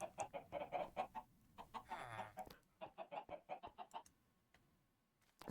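Blocky Minecraft chicken clucking in the Stoneblock 4 hardcore modpack: a steady run of short, evenly spaced clucks in two bursts with a brief pause between, fairly close and with no talking.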